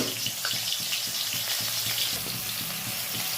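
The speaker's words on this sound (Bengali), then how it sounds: "আলুটা ভাজাভুজি করে নিই" Potatoes sizzle in hot oil in a home kitchen, a continuous loud crackling fry with faint rhythmic stirring scrapes underneath, no voices.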